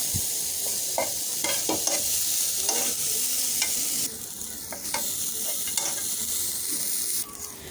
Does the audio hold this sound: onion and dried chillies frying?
yes